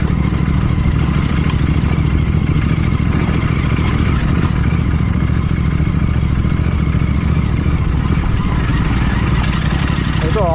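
A Royal Enfield GT650 motorcycle riding over a rough, broken road, its engine droning steadily and loudly throughout with continuous rattle and wind rumble, close up and unbroken.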